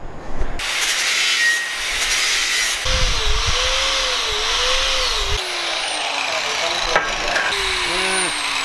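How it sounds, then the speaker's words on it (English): An angle grinder smooths a TIG weld on a steel hydraulic fitting, a loud high whine holding steady for several seconds with the pitch shifting as it bites and eases off, with someone talking over it. "I can make it look better with a grinder."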